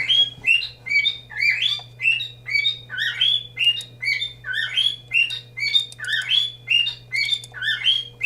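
A pet bird in an indoor room chirps and squawks in a rapid, continuous run of short bright calls, close and loud over a steady low electrical hum, with no speech.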